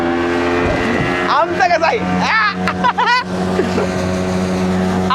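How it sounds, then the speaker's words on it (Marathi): A speedboat engine drones steadily on the water at Tapola, a close, constant motor hum under people talking nearby. "जाऊ दे आपली स्पीड बोट"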